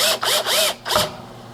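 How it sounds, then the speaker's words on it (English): A power drill drives screws while speaker brackets are mounted, with three quick whirring bursts close up and then a pause and a fourth short spin fading out. "So this was Jeff with the drill."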